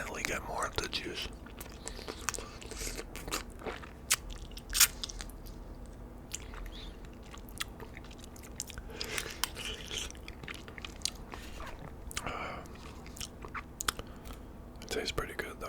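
Boiled peanuts are chewed and bitten close to the microphone in an ASMR setting, giving soft, irregular wet crunches and squishes at a quiet level, with occasional whispering in between.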